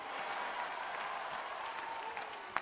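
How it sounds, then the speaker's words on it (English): Audience clapping fills a church deliverance service, a steady wash of applause from a crowd that runs throughout, with a sharper single clap near the end. "I don't like this clapping."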